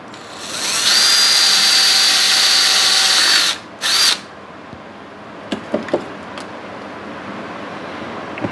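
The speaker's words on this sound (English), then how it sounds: "All right, now we can drill some holes and cut them out." A power drill bores holes for a homemade dust collector build. A loud, steady high whine runs for about three seconds, stops, gives a brief second burst, then gives way to a few scattered knocks and clatters.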